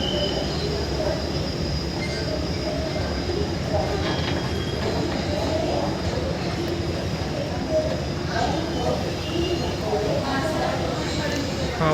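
Pune Metro train at Swargate station: a loud, continuous rumble of wheels and carriages with faint squeals, steady for the whole stretch, with indistinct voices mixed beneath.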